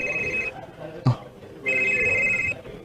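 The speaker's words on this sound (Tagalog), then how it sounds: "Oh, ditingog yung cellphone," A cellphone rings with a bright electronic ringtone in two bursts separated by a short pause, with a soft thump between them and low household background sound throughout.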